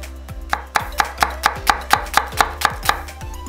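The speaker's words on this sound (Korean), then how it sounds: "그 다음 부재료 양파 반개는 얇게 슬라이스해서" A knife thinly slices half an onion on a cutting board, giving about a dozen crisp, evenly spaced chops close up with no talking.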